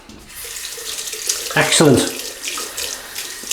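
Tap water running at a sink while shaving with a double-edged razor, a steady splashing stream with a brief louder burst in the middle and a short spoken word over it.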